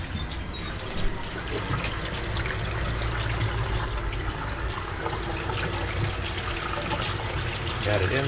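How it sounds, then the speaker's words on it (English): Warm tap water runs steadily while a tie-dye shirt is rinsed under it, a continuous close splashing and trickling with faint voices in the background. "Got it inside now with the warm water, hot water."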